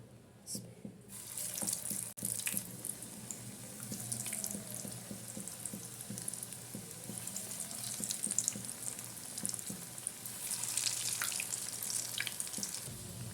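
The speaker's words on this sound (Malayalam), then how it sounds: "ഇനി നമുക്കിതൊന്ന് ഫ്രൈ ചെയ്തെടുക്കാം" Broccoli cutlets drop into hot oil in a pan and fry with a steady, hissing sizzle that starts after a brief quiet moment and holds close and even throughout, with no one speaking.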